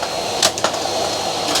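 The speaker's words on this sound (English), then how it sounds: "it's shredding the paper" A Henry Hoover vacuum drones loudly while a couple of sharp rattling bursts break through as paper is sucked in and shredded by a CPU cooler fan setup.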